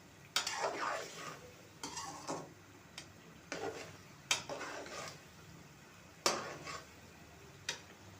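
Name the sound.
spices being roasted and stirred in a pot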